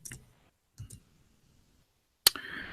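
A few sharp computer keyboard clicks, scattered bursts of tapping separated by quiet pauses, with one louder clack near the end followed by a brief rush of noise.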